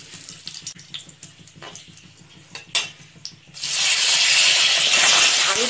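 Cumin seeds drop into hot oil for a mixed vegetable dish, and after a few soft clinks and taps a loud steady sizzle bursts up and carries on to the end.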